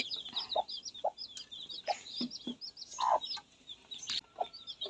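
Chickens of brown, black and white colouring cluck in short, repeated bursts, close by. The chicks are tied by the leg with rope, and the clucking comes in uneven clusters with no voices.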